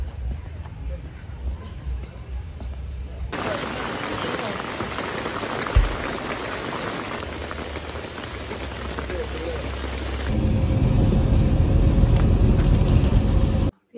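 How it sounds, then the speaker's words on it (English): Heavy rain pours down in Shillong, a dense steady hiss that swells suddenly louder and closer partway through, with a brief thump and some talking under the downpour. "it's raining too much"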